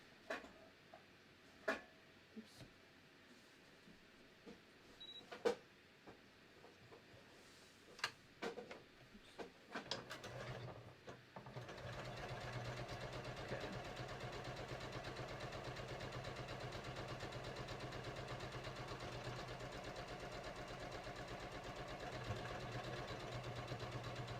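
A sewing machine stitches a buttonhole on shorts, starting with scattered taps and clicks as it is set, then settling into a steady, fast mechanical whir that runs unbroken to the end.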